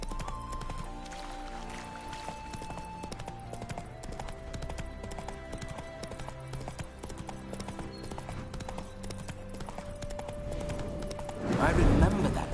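Roach, a horse in the Witcher 3 video game, gallops with a steady, rapid clip-clop of hooves under game music and a speaking voice, ending in a louder burst of noise.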